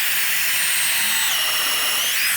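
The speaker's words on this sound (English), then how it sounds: "I'm going to drill one in with a pilot hole and one in without" A high-pitched power drill whines continuously for a couple of seconds, driving a screw into bamboo without a pilot hole, close and steady, with a slight pitch shift near the end.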